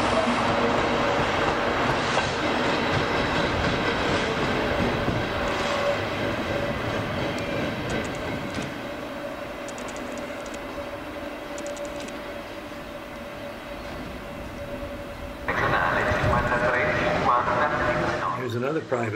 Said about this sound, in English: here comes a light engine